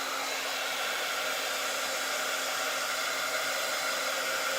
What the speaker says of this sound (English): you can hit this with a heat gun or a blow dryer